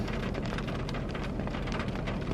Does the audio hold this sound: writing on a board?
no